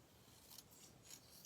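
Scissors trim card paper for a handmade greeting card, giving two quiet, close snips in an otherwise hushed setting.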